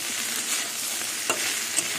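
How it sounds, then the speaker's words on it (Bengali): Okra and potatoes fry in a pan with Maggi masala, giving a loud, dense, continuous sizzle up close, broken by a couple of faint scrapes as the mixture is stirred. "এবার ম্যাগি মশলা দিয়ে আর কিছুক্ষণ ভাজবো"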